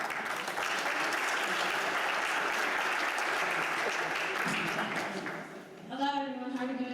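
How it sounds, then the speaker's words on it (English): Audience applause at a museum symposium as a former intern moderator comes forward, a dense sustained clapping that fills most of the stretch and then fades as a voice begins speaking near the end. "Let's give her a round of applause as she comes forward."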